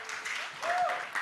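Audience applause for a performer at a media expo event, a dense steady wash of clapping lasting the whole moment, with a brief tonal whistle-like sound partway through.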